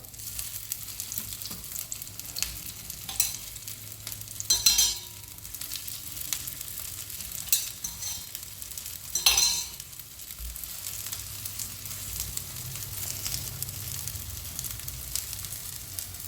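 Potato tikki frying in oil on a hot griddle, a continuous close sizzle with two brief louder hissing surges as pieces are placed or moved, no voices.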